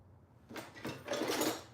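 A kitchen drawer slides open or shut in a home kitchen during baking, giving a few close wooden rattles and scrapes in quick succession with no talk over them.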